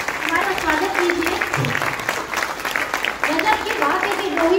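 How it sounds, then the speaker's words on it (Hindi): Loud applause fills a hotel function room, with a crowd clapping continuously and some voices faintly audible beneath the clapping. "जोरदार तालियों से एक बार और हमारा स्वागत कीजिए।"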